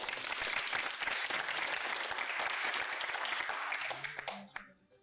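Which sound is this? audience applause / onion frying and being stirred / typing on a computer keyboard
audience applause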